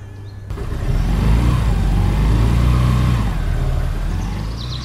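A car engine revs loudly and steadily as the vehicle pulls away, a strong continuous rumble that rises early and stays close before fading slightly toward the end.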